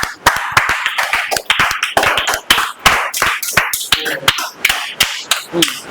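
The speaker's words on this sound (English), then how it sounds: "Clap, yeah, clap, clap." An audience claps to welcome Lakshya onto the stage at a group discussion event, loud, close, sharp claps in an uneven, fairly quick rhythm, with a few voices underneath.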